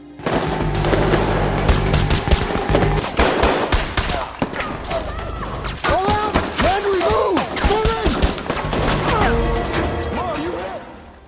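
Film shootout after a group of unknown attackers ambush people stepping out of a car, with rapid bursts of gunfire, crashes and impacts mixed over dramatic score and shouting voices throughout.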